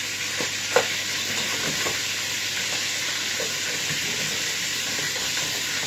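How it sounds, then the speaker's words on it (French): Marinated meat sautéing in a pan with onions about to go in, giving a steady close sizzle and hiss throughout with occasional stirring clicks and scrapes, no talk. "Je fais revenir ça et puis après je vais jeter mes oignons dedans"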